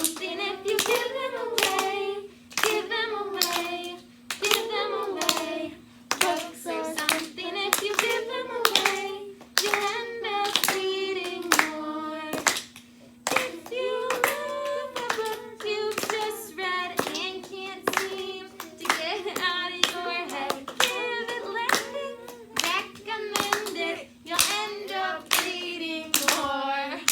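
Rhythmic hand claps keep time while a voice sings along, the claps sharp and regular throughout.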